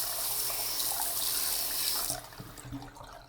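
Running tap water splashes steadily over a dusty old computer fan as it is scrubbed clean, a continuous hiss that cuts off near the end, leaving a few faint knocks and drips.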